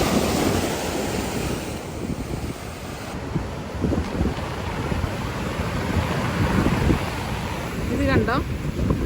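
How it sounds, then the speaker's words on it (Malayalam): Sea waves surge and break against a rocky shore, a continuous loud roar of surf with wind buffeting the microphone throughout and a brief voice near the end. "തിരമാല എവിടെ എത്തി നോക്കിയേ"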